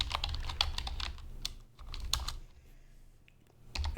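Computer keyboard typing as a JavaScript variable is declared, with quick, uneven clusters of close key clicks and short pauses between bursts, and no voice.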